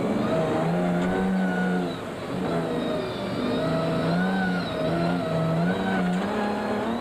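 Onboard engine roar of the Castrol Toyota Land Cruiser rally car at the 2002 Sun City 400, loud and continuous, revving up through gears with brief lifts between accelerations.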